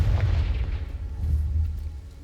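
Confringo spell explosion in the video game Hogwarts Legacy, a heavy low boom with a rumbling tail lasting about two seconds, loud and up front, with no talk.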